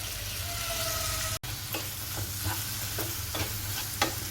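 Finely chopped tomato pieces tipped into a hot pan of spiced tomato rice base, a soft sizzle with repeated spoon stirs and scrapes knocking the pan, close up after a brief cut, no voices.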